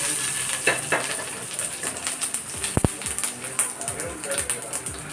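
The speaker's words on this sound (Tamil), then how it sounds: "கடுகு, உளுந்தம்பருப்பு போடுவோம்." Mustard seeds and urad dal crackle and sizzle in hot oil in a kitchen pan, a steady close frying hiss with small pops and a couple of sharp clicks midway.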